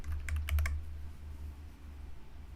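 Several quick keystrokes clatter on a computer keyboard in a brief close-up burst, followed by low steady background hum.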